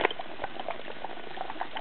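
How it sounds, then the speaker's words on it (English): An HHO torch running on a 25-volt, 1.1 LPM generator is dunked in a container of water, giving a brief bubbling, crackling sizzle that fizzes steadily and fairly quietly on its own. "the way we put it out is we just dunk this in this thing of water here"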